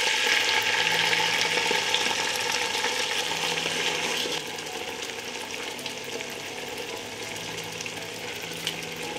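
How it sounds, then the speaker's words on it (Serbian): Peppers fry in hot oil in a cooking pot, giving off a continuous loud sizzle that drops to a softer, even crackle about halfway through. "sada spuštam papriku u šerpu na prženje"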